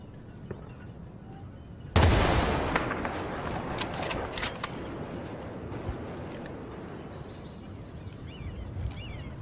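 Gunfire in the video game Battlefield Bad Company 2, a sudden loud blast followed by scattered shots and rumbling explosions that fade into distant battle noise.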